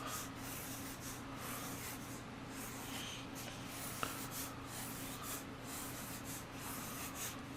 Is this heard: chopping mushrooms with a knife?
no